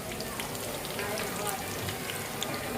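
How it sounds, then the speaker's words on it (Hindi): Fried noodles sizzle in a pan on a stove flame, making a continuous soft crackle with scattered tiny pops at a low, even level. "ये है फ्रेंड्स देखिए, ये हमारे फ्राइड नूडल्स"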